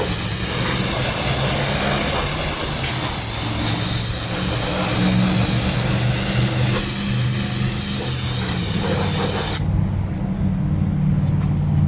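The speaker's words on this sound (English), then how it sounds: "Parts cleaner and degreaser." An aerosol can of parts cleaner and degreaser sprays in a long, loud, close, continuous hiss over the rebuilt Ford 9 inch axle center, ending abruptly near the close, with a low rumble underneath.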